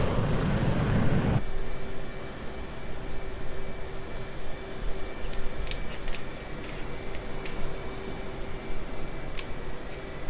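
An F/A-18 Hornet's jet engine on carrier approach in the DCS flight simulator: a loud roar at first drops to a steady, sustained rushing hiss with a thin whine running through it and occasional faint chirps. No one speaks.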